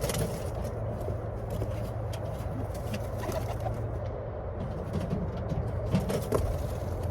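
Racing pigeons arrive at a loft after a 23-mile race, with soft cooing and fluttering, scraping movement amid steady background noise and scattered sharp clicks.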